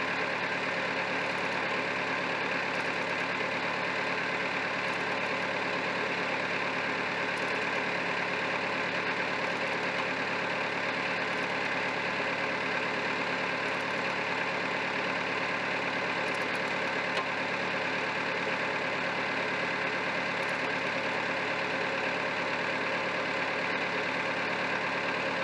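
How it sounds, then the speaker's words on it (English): David Brown 990 tractor engine idling steadily, a constant even mechanical hum and knock running throughout, fairly faint and unchanging, with no talk. "Tractor started."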